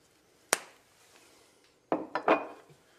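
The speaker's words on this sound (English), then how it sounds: "Take our bar spoon and give it a stir." A metal bar spoon clinks against a glass while stirring a coconut margarita with blanco tequila and no ice, one sharp tap followed by a quick cluster of three or four lighter clinks, close and alone.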